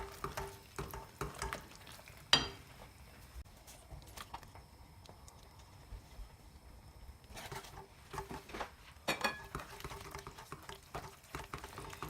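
Cooked mushrooms and Parmesan cheese are stirred into a risotto, with soft, quiet spoon scrapes and wet shuffling. A few sharper knocks against the pot come in bursts separated by calmer, near-silent stretches.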